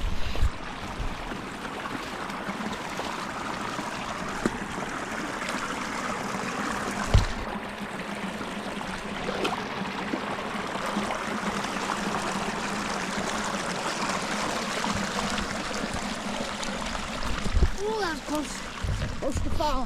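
A creek in Pennsylvania public-land big woods rushes steadily close by, a continuous broadband wash of flowing water with a few faint splashes and no pauses.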